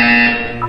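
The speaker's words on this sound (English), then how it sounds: "When you hear the buzzer, look down at the floor." A buzzer from the video game Portal 2 sounds once, a loud steady electronic tone lasting under a second and heard alone.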